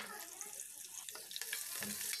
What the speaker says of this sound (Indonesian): Tumis sampai warnanya kecoklatan dan wangi.